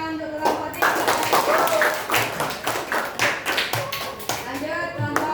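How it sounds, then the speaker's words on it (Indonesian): Elementary school children in an Indonesian fifth-grade class clap for a group, a loud, uneven burst of applause and taps near the microphone, mixed with children's voices talking. "Ayo beri tepuk tangan untuk kelompok 3."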